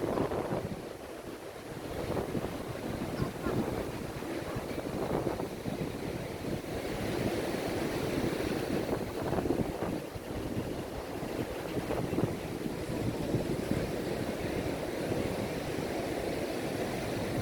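Ocean waves roll onto Pantai Gandoria beach in Padang, a steady broadband surf wash mixed with gusty wind buffeting the microphone, with no talking throughout.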